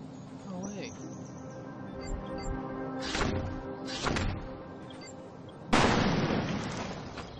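Sharp gunshots in the video game Defiance, a few separate bursts and a louder final crack, heard amid game ambience with someone talking over them.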